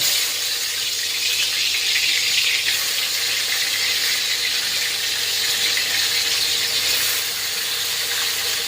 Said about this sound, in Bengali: আর মাছগুলো তেলাপিয়া মাছটা ভেজে নেব